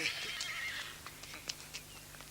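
A horse whinnies with a high, wavering neigh at the start, followed by a few faint, scattered knocks and soft shuffling sounds.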